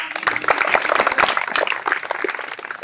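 Audience clapping for the village head at a rural village festival, a dense patter of many hands filling the whole stretch at steady loudness.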